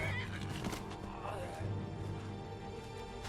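The horse Shadowmere neighs in the Skyrim video game, a whinnying cry with faint hoof clops among game combat sounds, fairly quiet.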